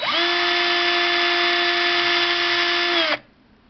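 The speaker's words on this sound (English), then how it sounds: "this is going to get a little bit noisy" A loud electric drill whirs steadily at high speed for about three seconds while drilling a metal pin, then cuts off abruptly, leaving quiet room noise.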